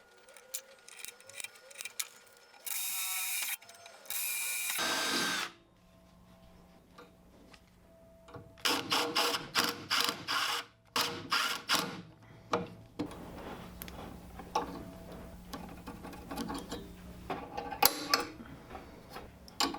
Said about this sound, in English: so I'm going to pre-drill these holes